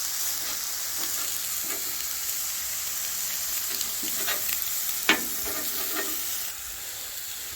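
Chicken pushed to the side of a flat-top griddle sizzles steadily for fajitas, a continuous broadband frying hiss with small pops and one sharp scrape or clack near the end, heard alone without talk.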